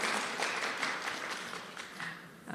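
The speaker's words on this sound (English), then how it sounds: "Let's give another round of applause to Mr. Wigan." Audience applause at a national health research conference, a steady wash of many hands clapping at moderate level through the whole moment, swelling slightly near the end.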